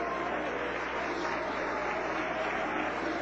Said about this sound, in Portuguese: palmas bem alegre para o Senhor Jesus